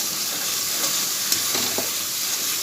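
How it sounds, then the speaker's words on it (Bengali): Spice masala for a paneer curry sizzles and hisses steadily in hot oil as it is sautéed, with a few soft stirring scrapes over a close, continuous frying sound and no voices. "দেখুন মশলা কষানো হয়ে গেছে"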